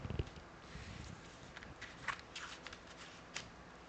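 Mystic Forest Tarot cards shuffled by hand, a quiet, close sequence of soft riffling and sliding flutters with a few sharper snaps.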